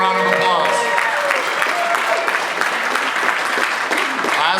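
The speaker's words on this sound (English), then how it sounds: "Give them a round of applause." Audience applause at a live wholesaling speech, a dense burst of clapping from a crowd in a room, loud and sustained with some cheering voices mixed in.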